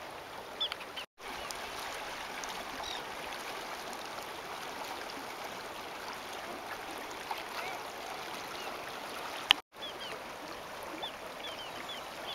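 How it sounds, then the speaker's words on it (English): Fast-flowing Mekong River in Thailand with rapids, a steady loud rush of water running continuously and close by, briefly cut out twice. "That river is going awful fast, so they say don't get in the rapids."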